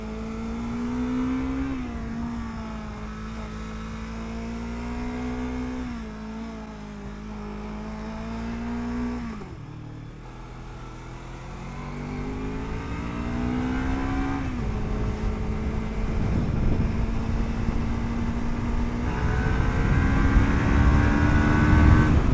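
A Lexmoto LXR380 motorcycle accelerates hard from 0 to 60 mph, its engine climbing in pitch through each gear with brief dips at the shifts, loud and close with steady wind roar beneath.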